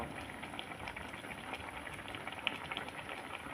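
Rice boiling in a pot, a steady close bubbling and seething hiss with small pops throughout, no voices.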